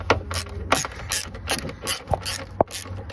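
A ratcheting spanner works the bolts on a Land Rover Freelander diesel fuel filter, giving rapid bursts of close, sharp metallic clicks with short pauses between the strokes.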